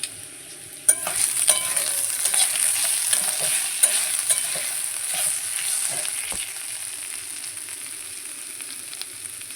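Spices sauté in hot oil for a bhola fish and potato curry, a steady bright sizzle that jumps up after a clatter early on and continues evenly with occasional stirring scrapes and knocks, close and without talk.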